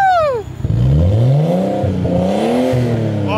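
Nissan R32 Skyline engine revving through a new exhaust: a sharp drop in pitch, then a loud, close rev that climbs and settles into a steady raspy drone, with no talk.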